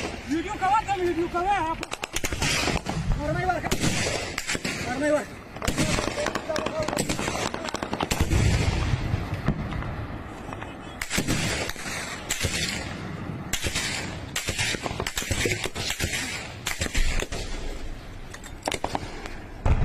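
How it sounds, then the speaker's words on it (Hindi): Rapid, crackling gunfire bursts ring out continuously during heavy fighting in Panjshir, mixed with sharp pops and bangs, while a voice speaks over the top. "सुन रहे हैं आप, ये गोलियां बरस रही हैं, बारूद बरस रहा है"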